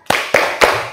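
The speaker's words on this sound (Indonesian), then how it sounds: "Ayo sambil Ibu nyanyikan sambil tepuk tangan ya." A school class claps in unison during a rhythm game, three sharp, evenly spaced group claps ringing close and loud in a small room.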